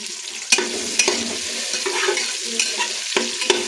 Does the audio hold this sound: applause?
no